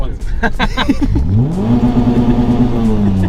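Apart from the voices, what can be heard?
car engine hitting rev limiter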